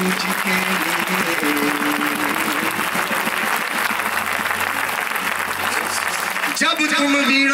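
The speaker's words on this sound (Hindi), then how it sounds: "जोर से ताली हमारे गुरु जी के लिए।" Loud sustained applause from an audience at a spiritual awakening gathering, cheering a guru, with musical tones joining near the end.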